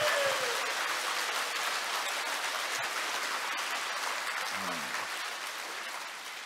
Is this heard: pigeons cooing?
no